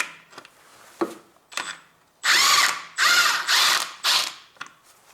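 Ratchet wrench clicking in short bursts while drive shaft bolts are loosened on a Honda Civic with a 1.8 R18A1 engine, several close, loud cranking runs after a few lighter clicks.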